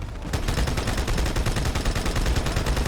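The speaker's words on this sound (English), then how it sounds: "Alright, here's a mounted turret." A mounted turret fires in Halo 2 Anniversary, a sustained, loud, rapid burst of automatic shots in dense unbroken rhythm that runs for about three seconds with no voices over it.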